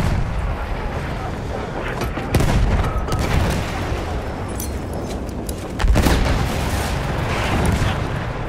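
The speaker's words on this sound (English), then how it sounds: "Grenade out!" Grenade blasts and booming explosions in the Battlefield 1 battlefield, with two heavy broadband thumps landing about three seconds apart over a constant roar of gunfire and combat noise, with voices mixed in.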